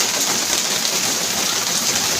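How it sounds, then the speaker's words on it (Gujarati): Heavy monsoon rain pours down over Surat, India, in a dense, constant roar, steady and close throughout. "આજરોજ સુરતમાં ધોધમાર વરસાદ"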